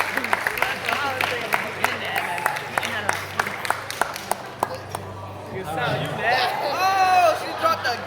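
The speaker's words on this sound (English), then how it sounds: "Give them all a huge round of applause." High school prom crowd at a stage hypnosis show breaks into clapping mixed with chatter and babble, with sharp individual claps standing out and excited voices and shrieks rising toward the end.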